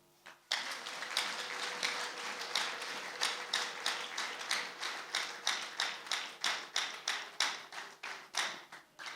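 Church congregation clapping together in a rhythmic, evenly paced beat, loud and fairly close, keeping a steady tempo for several seconds with no talk over it.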